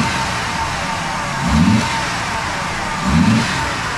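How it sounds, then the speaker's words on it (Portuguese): A 1994/95 Ford Taurus 3.0 V6 warms up at idle, then gives two short throttle blips. Each rev swells and falls back to a steady idle, heard close with no talk. "O ronco do V6 é muito bonito"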